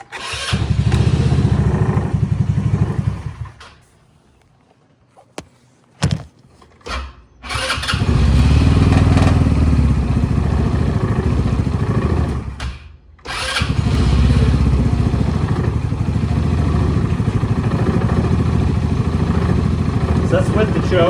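A Hammerhead 150 engine runs loudly and close with the choke on, then cuts out for a few seconds, sputters back to life and settles into a steady rough idle, briefly dropping again before running on.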